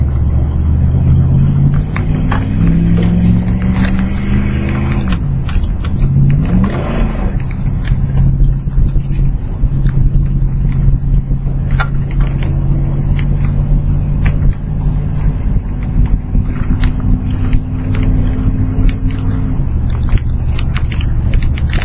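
A wood-powered truck drives along with its engine droning loud and near, the pitch rising and dropping as it shifts gears, a steady rumble that holds throughout.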